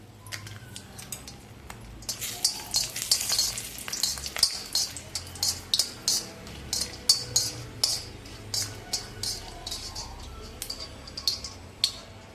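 Buttermilk-soaked pieces fry in hot oil with a steady close sizzle, while a spoon or ladle knocks and clinks rhythmically against the pan throughout, with no talking.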